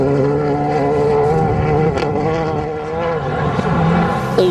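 Subaru Impreza rally car at speed on a gravel stage at the 2001 WRC Rally of Greece, its engine note loud and continuous with shifting tones as the car passes close.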